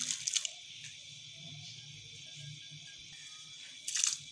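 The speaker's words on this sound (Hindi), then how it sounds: "तो मैं इसके अंदर गाजर ऐड कर दूँगी" Carrots drop into boiling water in a wok for carrot kheer, making brief splashy bursts at the start and again near the end, with a low, quiet bubbling simmer between them.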